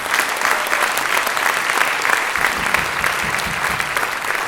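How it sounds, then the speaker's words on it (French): A crowd at a city of Chelles medal ceremony claps for an honoree's parents, a sustained, even burst of applause filling the room. "on applaudit le papa et la maman de David."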